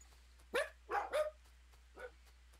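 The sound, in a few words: dog barking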